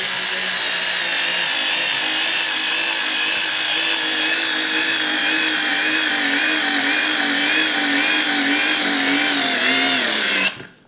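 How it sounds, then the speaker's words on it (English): A Parkside PAS 4 D7 4V cordless screwdriver drives a larger screw, giving a continuous motor whine about ten seconds long whose pitch slowly drops under load before it stops abruptly, with no talk. "I'm just checking the power for this screwdriver, how it can handle"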